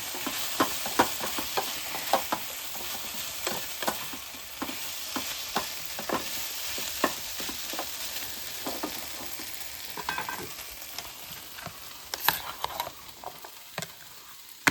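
A pan of mezhukkupuratti, a Kerala stir-fried vegetable dish, sizzles steadily while a spatula scrapes and stirs it in frequent clicking strokes, close and moderately loud with no talking.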